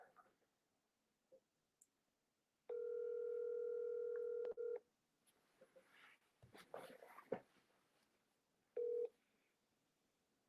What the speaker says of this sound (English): Dialing. Smile and dial, people.